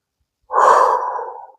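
A single deep inhale taken while holding a high plank during a yoga-inspired calisthenics session, close and clear, swelling quickly then tapering off, with no talking over it.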